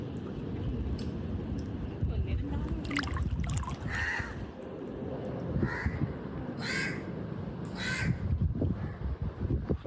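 Several crows caw in short bursts over a steady outdoor murmur in a Kerala beach town, with people talking now and then in the background.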